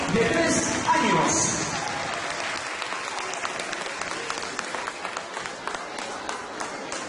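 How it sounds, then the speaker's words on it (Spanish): Parents and guests at a kindergarten event applaud a dance by three-year-old children, with dense clapping that is loudest at first and then settles into steady, thinner applause, while a voice speaks over it at the start. "Vamos a ofrecerle un fuerte y caluroso aplauso a los pequeños de 3 años."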